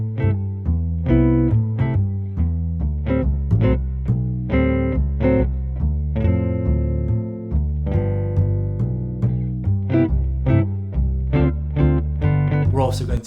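Jazz guitar comping built from three-note chords struck in a steady, clipped rhythm, each voicing ringing briefly before the next, close and moderately loud with no talking.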